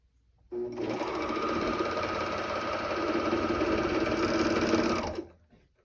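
A sewing machine stitching a pair of shorts runs in one continuous loud, close whir with a fast even mechanical rhythm, starting sharply and winding down after about five seconds.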